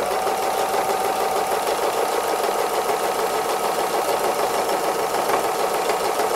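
A sewing machine runs continuously while free-motion embroidering feathers on a robin design, its needle chattering in a fast, even whirr, close and steady without pause.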